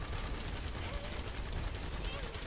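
Continuous rapid gunfire in the video game The First Descendant, dense and loud with no gaps, with game effects layered over it.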